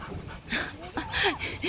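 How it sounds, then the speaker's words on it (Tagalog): A hot, tired dog pants in quick breathy bursts at a park after running through mud, with a few soft whimpering whines mixed between the breaths, close and moderately loud. "Minsan ang mga aso, pag mainit, ang bilis hingalin"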